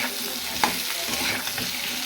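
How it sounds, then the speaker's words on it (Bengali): Potatoes and onions fry together in a pan, giving a steady close sizzle, with a light clink and stirring scrape partway through and no talking. "এবার আলু পেঁয়াজটা একসঙ্গে সুন্দর করে ভেজে নেব"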